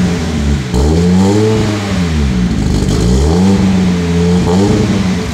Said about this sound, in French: Donne-leur un peu de gaz.